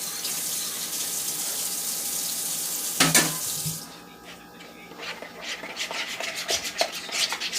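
Water from a tap runs into a bowl of vegan cheese sauce mixture, a steady close hiss that cuts off abruptly after about three seconds, followed by quieter stirring and clinking sounds.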